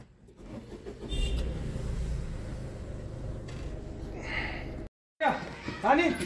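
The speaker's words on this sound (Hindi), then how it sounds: "गाड़ी स्टार्ट कर लेते हैं।" A car's engine being started inside the vehicle, a steady low rumble running for several seconds under talk, then a brief cut and a renewed revving surge near the end.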